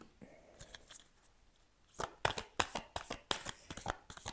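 Tarot cards handled and drawn from a deck: soft faint rustles at first, then a quick run of crisp riffling and snapping card flicks, close and fairly quiet.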